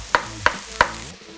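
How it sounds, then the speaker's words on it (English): Roughly chopped garlic goes into a pan, marked by three sharp metallic taps at even intervals over a faint, low sizzle. "2 cloves of garlic, just roughly chopped again. Into your pan."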